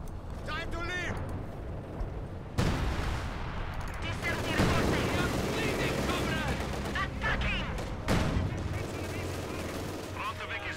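Enemy gunfire hitting a headquarters in the Company of Heroes 2 war strategy game, with dense rattling bursts, machine-gun fire and heavy explosive booms sounding throughout under in-game voices.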